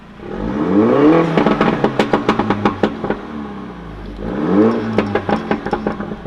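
A MINI Cooper S 3-door hatch (F56) engine revs hard twice, rising in pitch each time and ending in a rapid burst of crackling pops; loud and close, no voices.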